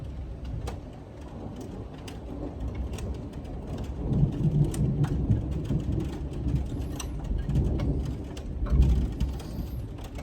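Deep rumbling thunder from a close severe thunderstorm with a derecho, broad low-frequency roll swelling mid-way and again near the end over steady rain-like background noise, no talking.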